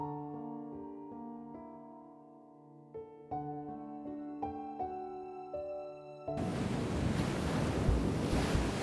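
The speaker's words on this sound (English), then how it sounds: "How did we end up in the ocean?" Broad, steady ocean surf rushes in up close and loud inside the Love and Deepspace game, following a stretch of soft sustained piano chords that cut off abruptly.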